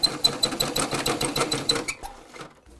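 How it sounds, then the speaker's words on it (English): A sewing machine stitches across elastic on a fabric face mask, a close, rapid run of mechanical needle clatter for about two seconds that then slows and stops, leaving a brief quiet tail. "then again you sew over that"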